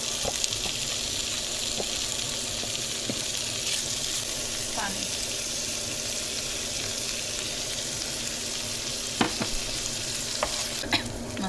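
Fish sizzles steadily in mustard oil with onion, garlic and green chili, while a utensil stirs and scrapes now and then and a few sharper clinks come near the end.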